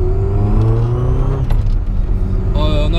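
The engine of a VW Polo G40 runs steadily and loud, a close, continuous drone with shifting harmonic tones, dipping slightly near the middle before a higher whirring note joins at the end.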